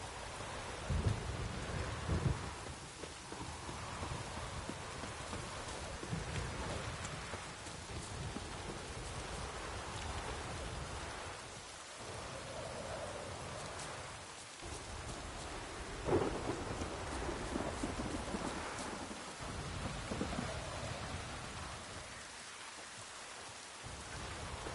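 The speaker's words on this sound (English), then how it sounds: "Oh, it's drizzling." Steady rain falls through a thunderstorm in the video game Witcher 3, with low rumbles of thunder rolling under a constant hiss of downpour, no talking.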